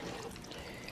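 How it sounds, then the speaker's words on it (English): Wet, soft stirring and squelching of buffalo sauce being mixed into a vegan plant-based taco filling, a faint continuous close-up sloshing with no talking. "And you stir that baby up."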